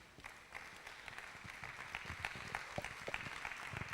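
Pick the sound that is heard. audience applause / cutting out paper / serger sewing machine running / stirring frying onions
audience applause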